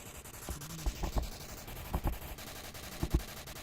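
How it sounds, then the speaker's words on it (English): Gunfire in the VR shooter Onward during a competitive match: muffled, distant bursts of several rapid shots in clusters, heard under low background noise with no speech. "Holy crap, that is some loud gunfire."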